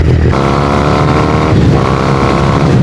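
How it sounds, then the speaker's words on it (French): A motorcycle engine roars under throttle, loud and close, with a rich rumbling drone that swells briefly and keeps going without pause. "Tu mets un peu de gaz, ça gueule et c'est beau."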